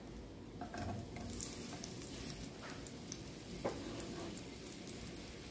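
Garlic and onion sauté in a pan for ginisang monggo, a soft continuous sizzle and frying crackle with occasional scrapes and clicks of stirring, fairly quiet and close.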